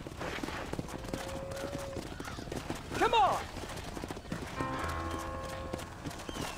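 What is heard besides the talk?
horse galloping in video game Red Dead Redemption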